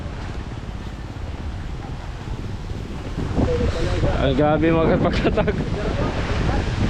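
Strong gusts of wind buffet an outdoor boat-building site, a broad roaring rush that swells louder midway through, with a person speaking briefly over the gusting noise.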